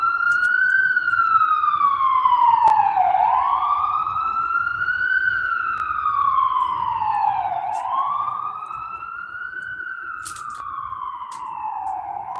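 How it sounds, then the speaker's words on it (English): An emergency vehicle siren wails in the background, sweeping slowly up and down in long repeated cycles. It is moderately distant and fades slightly toward the end. "And you hear the sirens in the background."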